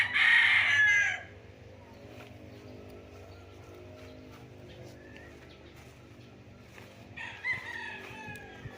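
A rooster crows loudly at the start on a farm with chicken coops, then fades into low steady background noise with faint clucking and another brief crow near the end.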